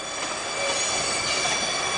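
Freight train wagons carrying agro-industrial and industrial cargo roll steadily along rails in southwestern Paraná, Brazil, as a continuous loud rumble with squealing wheels and no talk.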